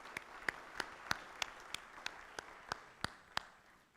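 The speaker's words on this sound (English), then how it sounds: "So give yourselves a round of applause." Clapping at a Rotary club meeting, heard as a soft bed of scattered applause with about a dozen sharp, evenly spaced claps standing out close by in a steady rhythm.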